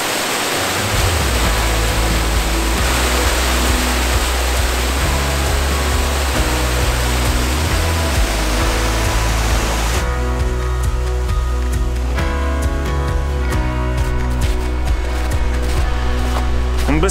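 The Vistula river flowing in the Beskid mountains, a loud steady broadband rush of water filling the whole clip with no talking.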